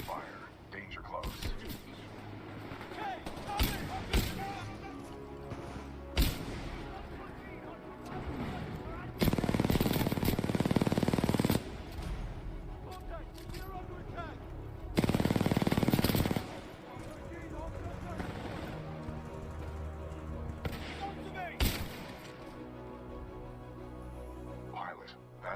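Supporting fire from a titan in the Titanfall 2 video game: rapid automatic gunfire rattles in two long, loud, close bursts, with lighter shots and mechanical clatter between them under occasional speech.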